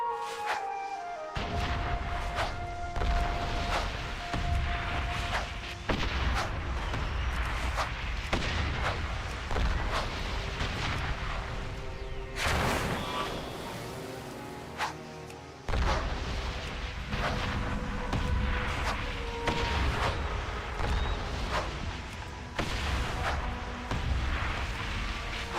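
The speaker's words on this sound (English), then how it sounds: "Bombing run." Explosions from a bombing run in a video game, a long stretch of loud booming blasts and rumbling impacts in rapid succession, with one brief lull midway, heavy and dense throughout.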